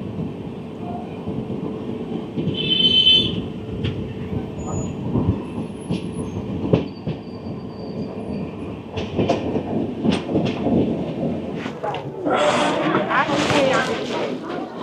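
The 12353 Lalkuan Express rolls into Lalkuan Junction with a steady, close rumble and rhythmic clickety-clack of wheels over rail joints, swelling near the end while voices talk over it.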